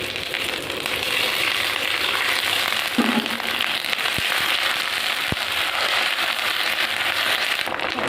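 Whole cumin, dried chili and bay leaf sizzling in hot oil for khichuri, a steady loud crackling hiss with a few sharp pops, close and alone.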